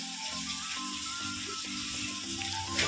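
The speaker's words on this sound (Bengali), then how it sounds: "এদিকে দেখো ফুলকপি আর আলু ভাজা করছে" Cauliflower and potatoes fry in a pan, giving a steady, close sizzle with some faint watery clatter throughout.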